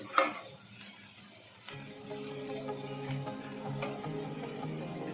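Food sizzles steadily in a hot pan for a Malvani-style home-cooked dish, with occasional stirring clicks and scrapes over the even frying hiss.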